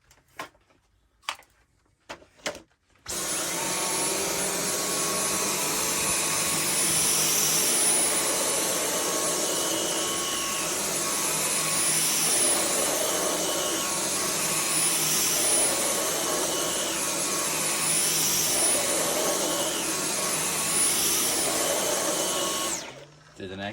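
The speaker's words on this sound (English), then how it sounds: "Let's use the Dyson V10 on medium power." A Dyson V10 stick vacuum runs on medium power as a loud, steady, high-pitched whine for about twenty seconds. A few clicks come first, and the motor cuts off at the end.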